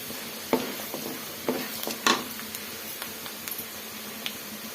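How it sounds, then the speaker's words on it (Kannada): Chana dal and urad dal fry in hot oil in a pan, a quiet steady sizzle punctuated by scattered clicks and stirring taps, with no voices. "ಕಡಲೆಬೇಳೆ ಸೇರಿಸ್ಕೊಳ್ಳೋಣ. ಉದ್ದಿನ ಬೇಳೆನೂ ಸೇರಿಸ್ಕೊಳ್ಳೋಣ. ಎಲ್ಲ ಸೇರಿಸಿ ಚೆನ್ನಾಗಿ ಹುರ್ಕೊಳ್ಳೋಣ."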